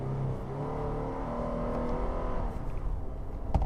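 A 2018 Toyota Land Cruiser Prado engine labors steadily at low revs climbing a rutted off-road hill, a continuous rumbling drone with a faint whir and a sharp knock at the end.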